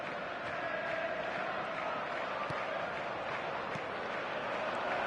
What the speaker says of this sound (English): but the crowd level has gone up a notch or 10